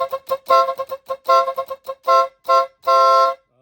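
A motorcycle horn sounded after fresh wiring, blasting a series of loud, close honks, some short taps and some longer bursts, in an uneven rhythm ending with a sustained blare.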